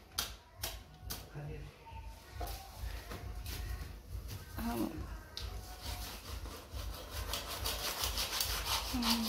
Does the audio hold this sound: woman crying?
no